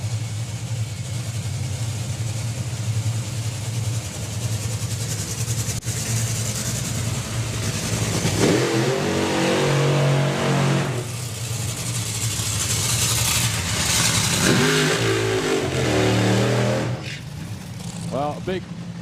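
Top-fuel drag racing car engine at the FIA Main Event 2023, a loud sustained roar throughout with the throttle backing off partway, heard under commentators talking over it.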